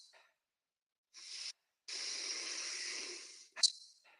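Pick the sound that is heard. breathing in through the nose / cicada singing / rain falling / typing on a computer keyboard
breathing in through the nose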